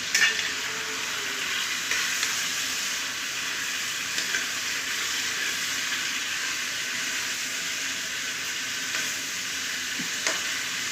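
Small chicken pieces frying in a pot for chicken pulao give a steady, even sizzle with occasional soft stirring scrapes, close and continuous for about eleven seconds.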